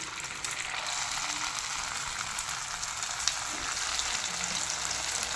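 Avalakki chakli dough frying in hot oil, a steady close hiss and crackle of sizzling that holds evenly throughout with a few faint clicks.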